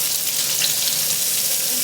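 Chicken frying in a pan until crispy, a steady close hiss and sizzle of hot oil running evenly throughout, with no talking.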